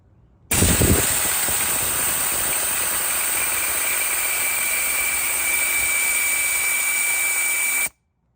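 Compressed air hisses steadily out of a vehicle tire through a Lightning RX4 rapid deflator, a loud, continuous high-pitched rush that starts abruptly, holds for about seven seconds and cuts off sharply, with no talking.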